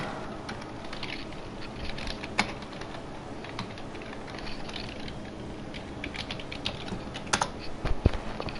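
Quiet keyboard typing, scattered clicks and short bursts of keystrokes over a low hum, with a few louder taps, during commentary of an F2 racing game league race.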